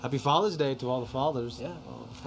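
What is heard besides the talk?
No distinct noise like a dog, phone or traffic.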